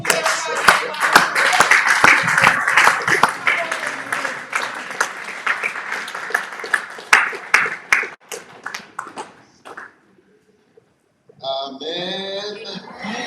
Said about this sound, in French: Ensemble, nous acclamons très fort pour le roi.